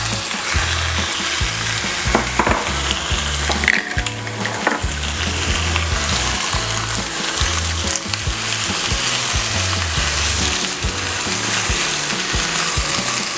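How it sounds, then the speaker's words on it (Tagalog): Chicken frying with ginger in a pan, a steady loud sizzle with occasional clicks and scrapes of stirring, continuous throughout with no talking. "At isunod na agad natin ang ating chicken."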